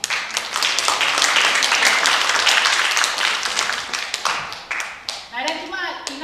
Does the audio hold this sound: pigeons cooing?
no